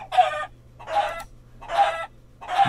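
A chicken in a video game clucks in four evenly spaced bursts over a steady low hum, with no voices.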